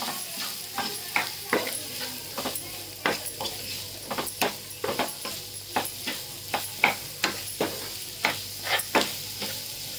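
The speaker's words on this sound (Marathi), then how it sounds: "कांदा चांगला परतून घ्यायचा आहे आपल्याला।" Chopped onion with a little salt sautés in a pan, a soft steady sizzle underneath repeated sharp scraping stir strokes of a spatula against the pan, irregular but frequent, close-up with no speech.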